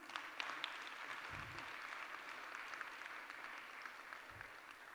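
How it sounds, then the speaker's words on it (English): An audience applauds two young performers at a saxophone and dance arangetram, a soft, even patter of many hands clapping heard at a distance for several seconds. "Sumedha and Siddhanth both need one more round of applause."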